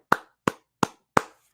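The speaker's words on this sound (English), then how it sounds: "You got me and the people freaking clapping for you, Will." Four sharp, evenly spaced single claps for a birthday ring out alone in a quiet room, each crisp with a short decay.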